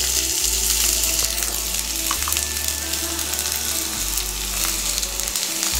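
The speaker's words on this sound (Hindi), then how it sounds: "ऑयल गर्म हो गया, अब इसमें प्याज डाल देंगे।" Onions sizzle and fry in hot oil in a pan for a samosa filling, a loud, steady crackling hiss with no talking.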